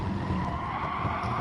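Tires skid and squeal steadily under a droning engine as a car in a racing video game misses its braking point, a loud continuous scrub with no talking.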